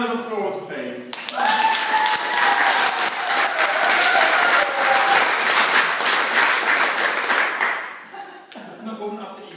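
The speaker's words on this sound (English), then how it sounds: "a huge round of applause, please" A comedy audience at the Edinburgh Fringe breaks into loud, sustained applause, rising sharply and holding steady for several seconds before fading as a voice returns over the tail.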